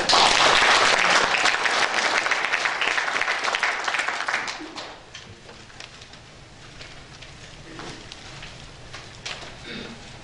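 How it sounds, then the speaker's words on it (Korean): An audience applauds at a wushu association event, the clapping loud and dense at first and then thinning and fading to a softer, scattered patter with faint background voices. "이 정도 우슈에 대해서 박수 한번 보내주셔야 됩니다."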